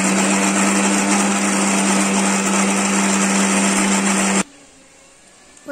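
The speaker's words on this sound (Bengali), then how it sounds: "তারপর আমি ভাপ দেওয়া যে পালং শাকটা রেখেছিলাম এটাও আমি মিক্সারের মধ্যে দিয়ে দেবো" A mixer grinder blends steamed spinach with a loud, steady high-pitched whir that runs for about four seconds and then cuts off abruptly, leaving quiet.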